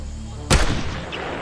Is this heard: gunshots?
yes